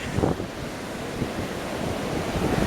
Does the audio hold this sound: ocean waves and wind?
yes